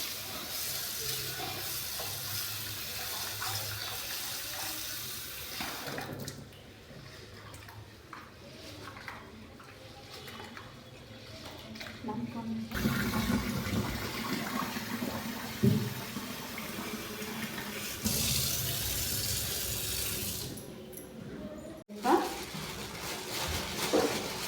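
Tap water runs and splashes steadily while lentils are washed two or three times in a bowl, with the flow pausing and restarting between rinses.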